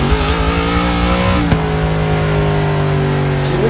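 Cadillac limousine in Forza 6 with all-wheel drive, drifting. The engine screams at high revs, its tone dipping sharply at a shift midway, then holding a steady loud whine.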